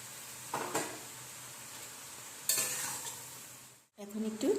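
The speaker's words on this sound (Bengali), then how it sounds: "এখন আদা বাটাটা আমি দিয়ে দিচ্ছি" Ginger paste added to mixed vegetables sizzling in a pan for a Bengali five-vegetable curry: a low, steady hiss broken by two scraping stirs and clatters, followed by a brief drop and renewed sizzling.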